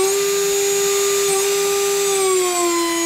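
A CNC router spindle whines at a steady high pitch, its tone drifting slightly lower as the speed knob is turned, loud and continuous without other sounds.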